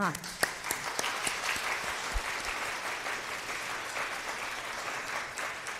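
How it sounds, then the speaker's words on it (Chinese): A church congregation applauds steadily during a Sunday service, dense clapping that holds throughout at moderate volume. "我们也请他们起立拍手来"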